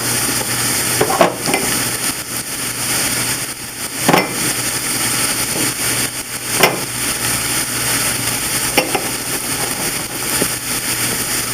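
Pan frying with fresh thyme being stirred: a steady, close hiss of sizzling oil runs throughout, with a few sharper scrapes and clatters of the stirring utensil standing out against it.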